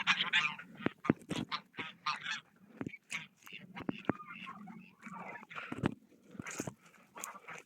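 Chickens cluck and squawk in repeated close bursts, crowding around in expectation of feed from a bucket, their calls overlapping in an uneven rhythm.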